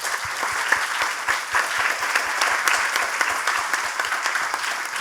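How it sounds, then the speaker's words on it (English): Audience at a closing event for a leaders' dialogue session gives speakers a steady round of applause, dense clapping filling a room at an even level throughout. "Let us give them a big round of applause."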